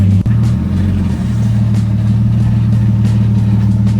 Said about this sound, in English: Taking the car for a test drive and to center the steering wheel.